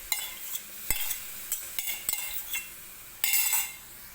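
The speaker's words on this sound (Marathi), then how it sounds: "तर व्यवस्थित चमच्याने मी सगळं पुसून घेते दही." A spoon stirs and scrapes whisked curd (yogurt) into a pan, giving a series of close metallic clinks and scrapes with brief pauses and a louder, busier stretch of scraping near the end.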